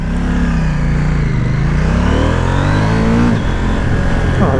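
KTM 790 Duke motorcycle engine pulling loud and steady with rising pitch, a brief quick shifter upshift cutting in near the end before the revs climb again.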